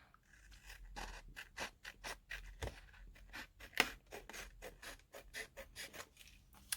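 Scissors snip through paper for handmade book page tags in a steady run of close, crisp cuts with brief pauses between them, no talking.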